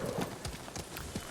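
Horse hooves clip-clop in the video game Ghost of Tsushima, a steady run of soft, evenly spaced hoof strikes at moderate distance, with no talking.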